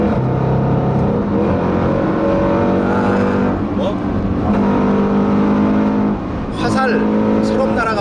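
A Range Rover Sport SVR super SUV accelerates hard after kickdown, its engine roaring loud and close with rising, strained harmonics and steady wind and road rush.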